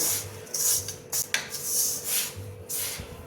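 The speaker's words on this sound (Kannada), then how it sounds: "ಈಗ ಕೈಯಿಂದ ಮಿಕ್ಸ್ ಮಾಡ್ಕೊಳ್ಳೋಣ" A rava laddu mixture being mixed by hand in a metal bowl, with soft rubbing and gritty rasping strokes in short irregular bursts, close and quiet.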